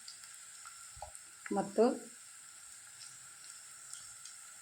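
Garlic hits hot oil in a pan for a Kerala-style saaru, giving a short, close sizzle that fades quickly, with a brief word spoken and some faint kitchen clatter around it.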